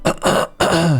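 A person's throat clearing close up and loud, in two rough rasping bursts with a short pause between them, then a longer, deeper hacking clear to finish.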